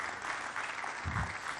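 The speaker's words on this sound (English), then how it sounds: "So give yourself a round of applause." A large conference crowd at a cryptocurrency gathering applauds in a steady, continuous wash of clapping that stays at an even level throughout the short stretch.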